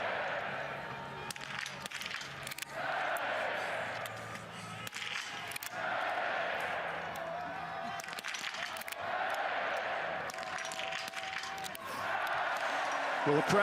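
Spectators at a women's individual biathlon race at the World Championships in Hochfilzen, Austria, cheer in several broad swelling waves after the shooting, distant and sustained, with a commentator talking over the crowd.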